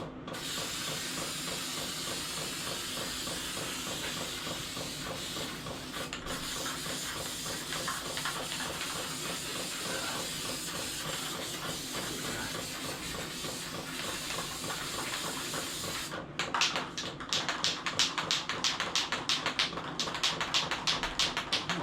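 A steady, hissing aerosol spray runs continuously at close range for most of the clip, then breaks into short repeated bursts near the end.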